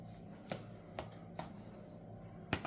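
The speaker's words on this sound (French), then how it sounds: "Surtout quand vous découpez la viande" A knife cuts meat for pâté croûte on a board, giving a handful of short, crisp chops spaced unevenly, with the last one firmest, all fairly quiet against a soft room background.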